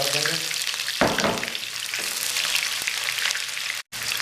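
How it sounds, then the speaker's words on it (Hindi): Chopped onions hit hot oil in a pan and sizzle steadily, with a louder crackling surge as they go in and some stirring scrapes, a continuous close frying hiss with no talk. "ऑयल हो गया गर्म, अब इसमें हम प्याज शामिल कर देंगे।"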